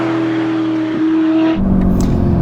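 Novitec-tuned Ferrari Roma supercar with a brutal aftermarket exhaust, heard as a loud, steady engine drone that shifts abruptly into a rougher, crackling tone partway through.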